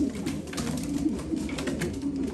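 Young pigeons from a breeding loft coo softly in low, repeated murmurs, several birds overlapping close by against a faint background hiss.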